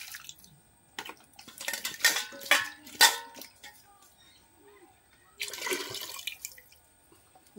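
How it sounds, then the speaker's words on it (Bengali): Potatoes being washed under water while cooking. Close splashing and running water come in uneven bursts with quiet gaps between them, along with light clatter of the potatoes and the bowl. "তারপর আমি এই যে আলুটাকে ধুয়ে নিচ্ছি।"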